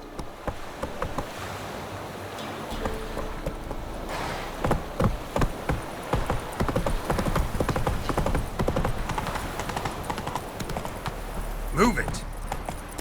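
Roach the horse gallops in The Witcher 3 with rapid rhythmic hoofbeats, close and steady, alongside waves or water and voices talking over the ride.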